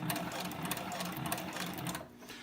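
SEWPRO 441-PRO sewing machine stitching through BioThane strap material, a steady close mechanical whirr of rapid needle strokes running continuously, then easing off near the end.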